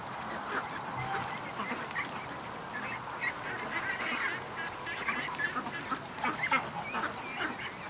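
Ducks quack repeatedly at a lake early in the morning, mixed with other waterfowl calls and honks over steady traffic noise, busy and continuous throughout.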